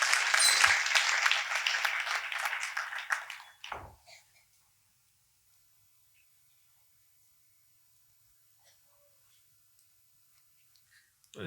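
Church congregation applauding to welcome first-time visitors, a dense burst of clapping that fades over about four seconds, followed by near silence with faint scattered sounds.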